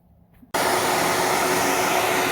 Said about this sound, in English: fire up our dremel, get our noisy dust collector fired up